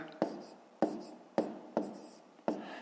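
Handwritten figures for a long multiplication problem in a fifth-grade maths exercise, heard as five sharp, close tapping strokes at a steady pace, each followed by a short scratchy tail, with no talk.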